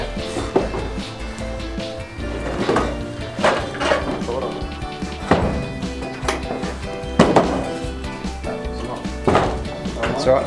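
Repeated hollow thunks and knocks as a door is fitted onto a Toyota Corolla and latched during a cheap home paint job, arriving in irregular bursts roughly every second or two while people talk over them.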